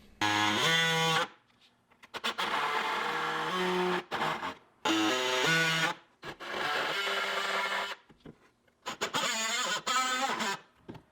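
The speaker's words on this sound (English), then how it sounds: "I'm using a multi-tool with a multi-purpose blade to cut out the rectangle from" A multi-tool with a multi-purpose blade cuts a rectangle out of a plastic bucket, making loud, buzzing, harmonic oscillating bursts of a second or two separated by short silences.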